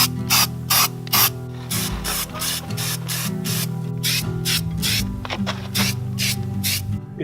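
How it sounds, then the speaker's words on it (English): Rust-Oleum bed liner hisses from an aerosol can in repeated short bursts of spray, close and loud, with a rattling hum from the can between passes. "I'm gonna start coat 1 of this bed liner here."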